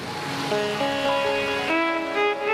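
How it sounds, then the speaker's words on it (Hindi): Rain falls during an outdoor Shiv Mahapuran religious discourse in Bhilai, a steady soft hiss under sustained musical tones that drift and change throughout. "अभी जलवृष्टि बंद थी, रात को भी बंद थी, कथा में चालू हो गई।"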